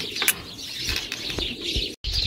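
Domestic turtle doves in a small aviary, with soft repeated bird calls and brief bursts of wing flapping over a steady background, close by and fairly quiet.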